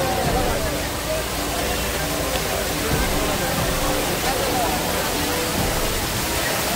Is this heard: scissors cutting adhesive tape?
no